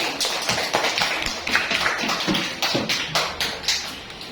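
Classroom clapping from a small group of students, loose and uneven, with a series of distinct claps arriving in an irregular rhythm, fairly close and moderately loud.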